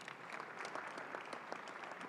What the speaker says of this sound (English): So you need to clap again for yourselves because the work was done by you,